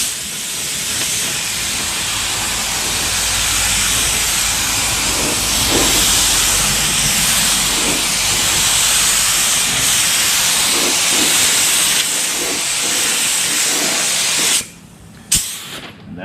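Spray gun blasting a flow coat onto a repaired plastic car bumper at slightly raised pressure, a loud steady hiss holding for about fourteen seconds before cutting off, with a couple of brief bursts at the end.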